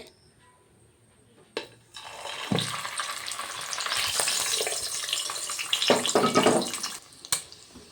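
Egg batter hits hot oil in a pan after a quiet start, swelling into a busy crackling sizzle with a few spatula scrapes and clinks, then settling back toward quiet; no one speaks.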